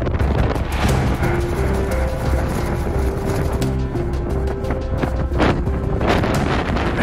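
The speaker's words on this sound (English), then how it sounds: "It is freaking windy out there and cold." Strong cold wind, over 70 mph, roaring constantly into the microphone beside a fifth-wheel RV, a loud dense rumble with gusty bursts and a faint tonal whine running through it.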